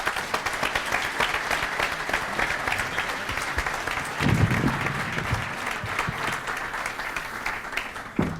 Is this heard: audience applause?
yes